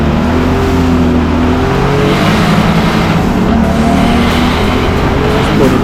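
A BMW E36 Turbo race car runs on a wet circuit at Killarney International Raceway, its engine droning loudly and steadily with rising revs and tire hiss, heard close and continuous without talk.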